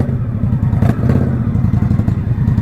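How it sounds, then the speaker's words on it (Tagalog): Indian Bobber motorcycle engine running close by, a loud, steady low rumble with a rapid throbbing pulse and light mechanical clatter. "Napaka easy ride ng ganitong mga motor pare. Itong Indian bobber na to."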